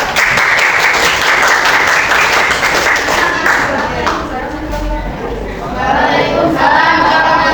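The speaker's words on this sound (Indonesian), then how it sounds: "kita beri tepuk tangan untuk kelompok 3." A classroom of students applauds a student group in a science lesson, loud dense clapping that runs the whole time, with children's voices and chatter mixed in.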